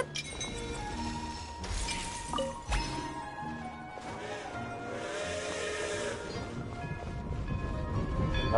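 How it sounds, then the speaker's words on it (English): Train passing in the video game Genshin Impact, set in Snezhnaya: a steady mechanical rumble with hissing steam, a sharp metallic crash near the start and a whistle-like tone, continuous and fairly loud throughout. "Another train."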